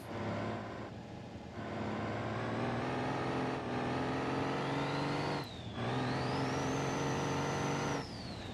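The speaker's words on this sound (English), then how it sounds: "The turbo sounds good though." A turbocharged car engine in the BeamNG.drive driving game revs hard and holds a rising, droning pitch, with brief dips between gear pulls and a faint turbo whine above, close and continuous with no voices.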